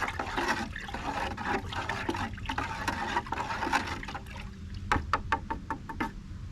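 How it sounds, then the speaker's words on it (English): An old piece of scrap wood stirs liquid in a container, giving close, sloshing swishes and splashes that turn into a run of sharp knocks and drips toward the end. "Now I'll just stir this up using this old piece of scrap wood."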